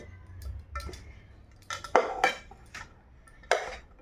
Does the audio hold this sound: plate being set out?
yes